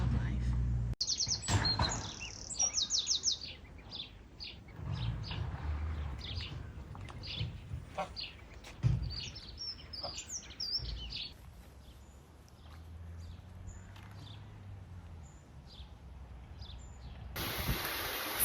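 Small birds chirp and tweet in quick, bright bursts near a lemur enclosure at Woodside Wildlife Park, with a low outdoor rumble and a few scattered rustles underneath.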